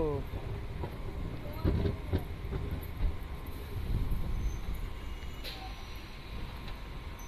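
A passenger train on the Fatuha–Islampur line pulls away, a low rumbling roll with faint clanks and some wind, heard fairly quietly at a distance while a voice talks over it.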